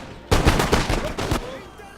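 Musket volleys in a video game battle, a burst of overlapping gunshots that crackles for about a second, loud and near, then rolls off into a fading rumble.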